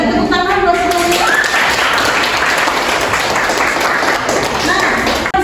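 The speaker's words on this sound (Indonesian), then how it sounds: "tepuk tangan buat semuanya" A classroom group claps together in a dense, sustained burst of applause lasting several seconds, close and loud, with a voice briefly heard at the start.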